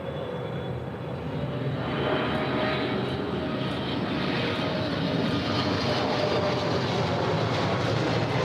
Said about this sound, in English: a 777-300ER coming in from Paris, flight 66, now in short final for 24 right